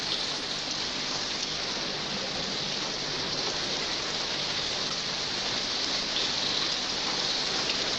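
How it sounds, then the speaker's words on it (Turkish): Rain falls steadily on an outdoor surface, a dense, even patter that stays at the same level throughout with no voices. "Sadece biraz yağmur yağıyor."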